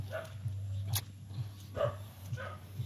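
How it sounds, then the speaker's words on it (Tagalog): Several short dog barks and yips at a distance over a steady low hum, spaced irregularly through the clip. "Hindi na makapasok, daming aso"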